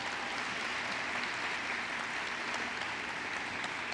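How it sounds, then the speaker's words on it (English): An audience at a Southern Arizona forum on USMCA applauds the Pima Community College board members, a steady, even patter of clapping heard from a distance and fairly faint. "Please give them a round of applause."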